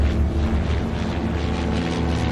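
Steady, droning airplane engine in flight, loud and continuous with a low propeller-like hum and no break, the aircraft heading over an African desert.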